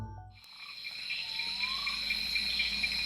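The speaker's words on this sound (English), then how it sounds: "The Jog night frog." A Jog night frog calls in the Sharavathi Valley monsoon forest at night: a high, steady trill over a dense insect chorus, with a brief rising whistle partway through, faint and distant, no talk.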